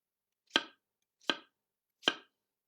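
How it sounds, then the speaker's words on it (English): Apples are chopped on a cutting board with three sharp, evenly spaced knife strikes about three quarters of a second apart, crisp and close with silence between them. "my human is busy chopping apples as well"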